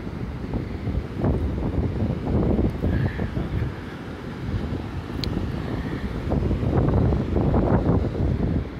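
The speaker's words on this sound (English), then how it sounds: "if the wind blowing and the water making such a crashing sound" Strong wind buffets the microphone at the ocean shore while waves crash in irregular, rumbling surges, loud and close throughout.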